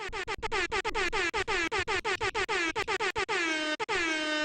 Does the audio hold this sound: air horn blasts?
yes